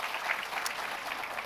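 Congregation applause offered to God in an Indonesian church service, a brief, steady wash of many hands clapping at moderate distance, continuous with no pauses.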